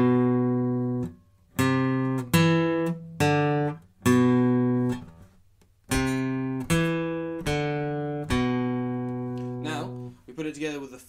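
Close acoustic guitar plays the phrases of a song riff back to back, a run of roughly a dozen plucked single notes and short ringing figures in a steady, deliberate rhythm, each note sustaining before the next.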